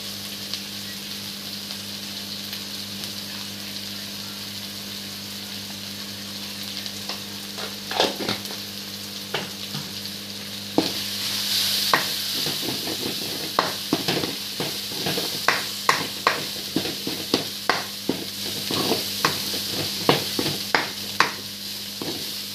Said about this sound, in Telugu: ఉల్లిపాయ వేగినట్టునండి. కారం యాడ్ చేసుకుందాం, 1 స్పూన్ కారం వేద్దాం.